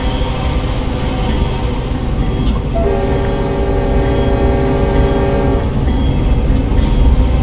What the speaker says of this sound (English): We are unfortunately at the train yard, so it's about to be loud here in a second.